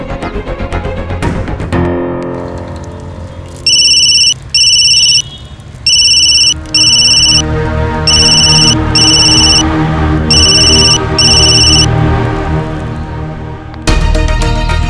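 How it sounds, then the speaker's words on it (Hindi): A phone rings unanswered in a loud electronic ringtone of repeated paired bursts with short gaps between them, over background music. "सीनियर मिस बोस तो मेरा फोन जरूर उठाएंगे"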